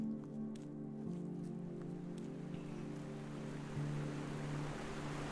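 Waterfall in the puzzle video game Taiji, a soft steady rush of falling water under sustained game music tones, growing a little fuller toward the end.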